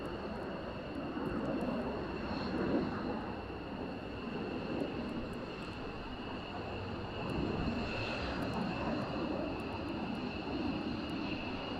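Four military jets arriving to land at an air base come through as a steady, continuous engine roar that holds level throughout, distant and broad, with no talk over it.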